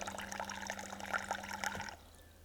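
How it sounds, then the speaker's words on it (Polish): Water runs from a battery-powered Dometic GO electric camping tap into a glass in a steady, close trickling pour for about two seconds, then stops abruptly. "Wy chcecie sobie nalać wody albo umyć ręce. Podkładacie szklankę, raz, dwa"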